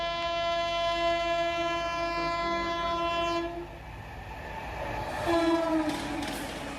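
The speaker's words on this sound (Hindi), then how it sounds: "पटना से नई दिल्ली की क्रांति एक्सप्रेस" The Kranti Express on its run from Patna to New Delhi sounds a long, loud horn. The horn then gives way to rumbling wheels and clatter as the train passes.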